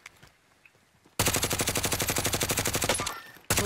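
Gunfire in a video game: a loud, close burst of rapid automatic fire with evenly spaced shots for about two seconds, a brief pause, then another burst beginning.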